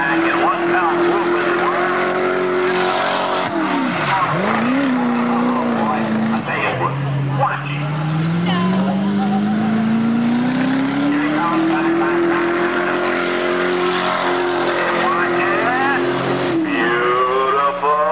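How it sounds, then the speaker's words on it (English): A stunt car accelerates along a track at a 1988 Joie Chitwood Thrill Show, running on Cooper tires; the engine drones loudly and steadily, its pitch dipping and then climbing as it gathers speed, under continuous announcer commentary. "Watch him accelerate faster and faster."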